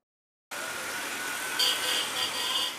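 Okada motorcycle taxi engine in Lagos traffic, a steady mid-distance motor hum starting abruptly after a short silence, with a slight rise and a higher whine joining near the end amid street noise.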